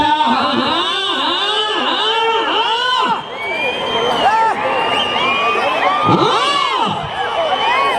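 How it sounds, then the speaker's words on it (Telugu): A large crowd at a seniors' prize competition in Narayanapuram cheers, whoops and shouts continuously, with loud overlapping voices, whistles and cries filling the whole stretch. "జనాల్లో విజిల్లో కేకలు, మీ చప్పట్లు విజిల్లో కేకలు"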